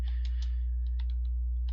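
Someone types on a computer keyboard, producing a quick run of light clicking keystrokes in irregular bursts over a steady low hum, fairly close and clear.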